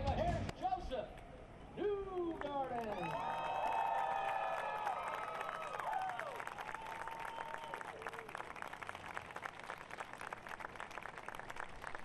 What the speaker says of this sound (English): Another nice round of applause for the Mayor of the City of Birmingham, the Honorable William A. Bell.